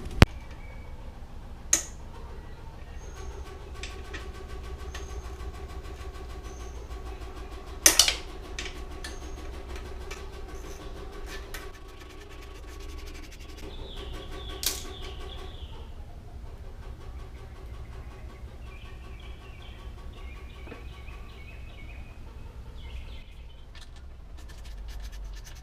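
Exhaust pipe springs pried off a 2007 Suzuki RM125 two-stroke dirt bike: faint scraping and rubbing with a few sharp metallic snaps and clicks spread out over a quiet background, close by.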